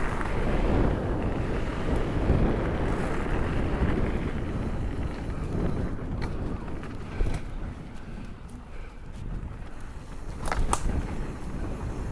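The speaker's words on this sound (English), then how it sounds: "Pretty windy." Steady wind rushes across the microphone during a mountain bike ride, a broad continuous roar with occasional gusts and faint rattles.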